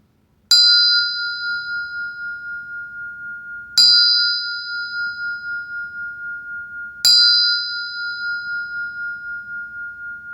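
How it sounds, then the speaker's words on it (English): Three clear strikes of a meditation bell, evenly spaced a few seconds apart, each ringing out with a long, slowly pulsing decay in otherwise quiet surroundings. "I'll sound the bell."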